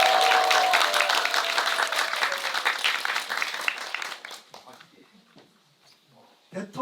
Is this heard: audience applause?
yes